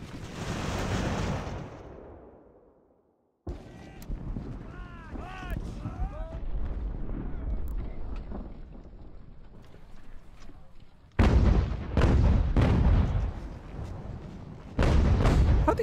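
Cannon and musket fire rumbles in the Ultimate General: American Revolution battle game, with heavy booms, a short silence, then renewed loud volleys and crackling shots, and a voice talks in places.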